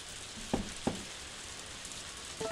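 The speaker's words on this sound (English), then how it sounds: "Oh, it's raining." Steady rain falls in the farming game Harvest Moon: Another Wonderful Life, a soft, even hiss throughout, with two brief taps near the start and another at the end.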